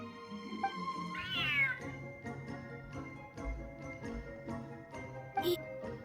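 A large cat in the video game Genshin Impact meows several times, clear and fairly close, over soft game background music with faint tinkling chimes.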